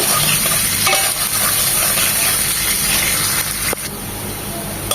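Chopped onion and finely chopped garlic from one large bulb fry loudly in a pan, a dense, constant sizzle with stirring scrapes throughout and a sharp knock near the end.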